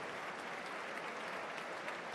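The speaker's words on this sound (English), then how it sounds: "Sympathetic applause for the centre-back as he will be replaced now by Mepham." A football stadium crowd at a Sunderland AFC versus Hull City match applauds a centre-back being substituted off, a soft, even wash of distant clapping throughout.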